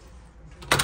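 A key turns in the lock of an apartment door in Poland, a brief close metallic jangle and click burst near the end after a quiet lead-in.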